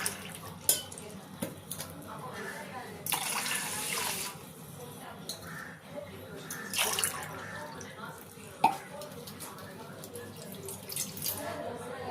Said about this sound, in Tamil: ½ டம்ளர் தண்ணி ஊற்றியாச்சு.